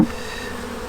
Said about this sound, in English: So Blake, are the worker bees boys or girls?